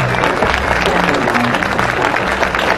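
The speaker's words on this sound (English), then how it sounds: "how about a big round of applause for Kevin Schwantz?" A large audience at an international motorcycle show applauds 1993 World Champion Kevin Schwantz, dense steady clapping mixed with crowd noise and some voices, loud and continuous throughout.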